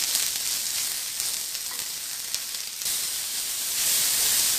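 Onion fries in oil until reddish, producing a steady, bright sizzling hiss with faint stirring, close and continuous.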